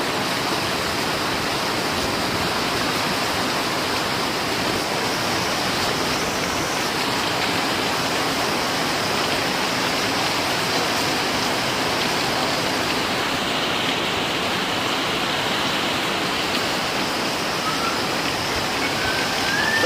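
Steady, dense roar of heavy rain pouring down continuously, loud and unbroken with no voices.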